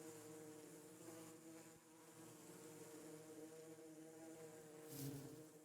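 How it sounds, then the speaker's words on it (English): Bees released in the Minecraft modpack ATM 8 give a steady, droning game buzz, faint and continuous throughout, with a brief brighter swell near the end. "And release the bees!"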